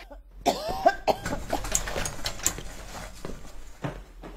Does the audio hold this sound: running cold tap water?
no